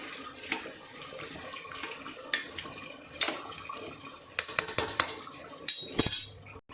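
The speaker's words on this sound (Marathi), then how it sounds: "आता आपण ह्यामध्ये झाकण देऊन पाणी ठेवणार आहोत" Water splashes and trickles into a metal pot being readied for steaming fish, with scattered clinks and knocks of cookware, close and moderately quiet.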